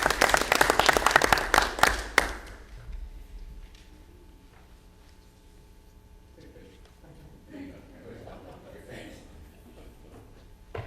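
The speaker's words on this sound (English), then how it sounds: "Linda, let's give her a round of applause." Applause from attendees at a school board of education meeting, a loud burst of clapping that fades after about two seconds into quiet room murmur and scattered talk.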